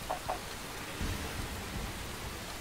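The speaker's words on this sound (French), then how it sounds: "Oh, il pleut" Rain in the video game Dynasty Warriors Online, a constant dense hiss of rainfall with a faint low rumble underneath, steady throughout and without talk.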